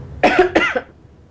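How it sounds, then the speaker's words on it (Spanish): A woman coughs twice in quick succession, close and fairly loud, each burst short and harsh, followed by a brief throaty tail and then quiet. "perdón por la tos"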